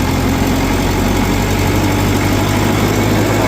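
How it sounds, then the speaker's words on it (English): The engine of an old Caterpillar D4 bulldozer runs loud and close with a steady, even low rumble and rattle, holding the same pitch throughout. "What a sweetheart this old D4 is. It's a good running motor."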